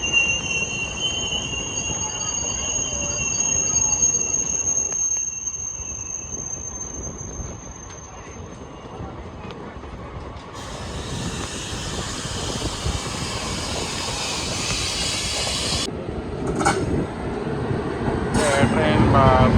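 The Santragachi–Secunderabad summer special train rumbles along steadily with wheel noise and a high squeal that fades midway, then harsher clattering and bursts of rattling build up near the end, loud and close.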